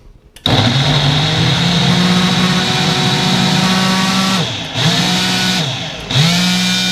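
A blender whips up a beet and banana protein smoothie, roaring loud and close with a steady high whine, briefly dipping twice as the motor eases off and surges back.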